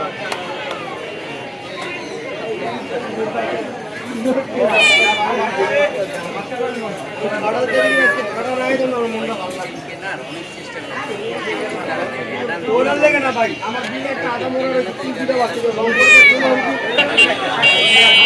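Persian cats meow in short, rising cries at a busy cat market in Uttara, heard under loud, continuous crowd chatter and nearby voices talking.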